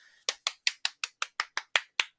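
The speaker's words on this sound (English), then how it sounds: "that was me clapping all the way around my microphone" A single person claps ten times in a quick, even rhythm while circling a microphone, each sharp clap close and loud with a brief decay. Faint room noise comes before the first clap.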